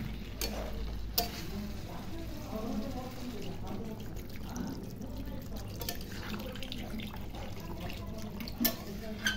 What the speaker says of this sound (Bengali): তো এবার মাংস কষানোর জন্য এবার আমি জলটা দিয়ে দেবো।